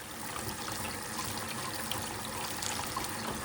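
Baby bok choy rinsed under a running kitchen tap, a steady close water stream splashing and trickling over the leaves for a few seconds with no talking.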